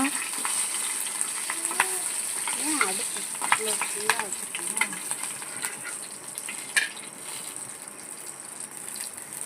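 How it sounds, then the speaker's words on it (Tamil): Mustard seeds, curry leaves and green chillies fry in hot oil with a steady close sizzle, with sharp crackles and pops from the seeds and a few clinks of a utensil, and no one speaking. "எண்ணெய் சூடானதும் கடுகு போட்டுக்கலாம். கடுகு பொரிஞ்சோடனே கருவேப்பிலை போட்டுக்கலாம். அடுத்து பச்சை மிளகா"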